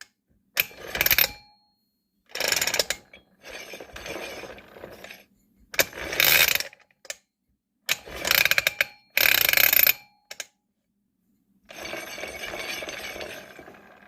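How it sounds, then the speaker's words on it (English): A 1980 Honda XR80 motorcycle being kick-started: a series of separate mechanical clanking and ratcheting strokes with silent gaps between them, close by, then a longer rougher burst near the end. "We also got the kick start to work."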